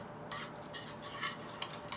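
A utensil stirs flour cooking in a pan for mac and cheese, making soft scraping bursts in a quick irregular rhythm, close and fairly quiet.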